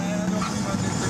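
A Pagani Huayra's turbocharged engine roars loud and close, a dense sustained rush with a turbo whoosh that resembles a jet aircraft preparing for takeoff.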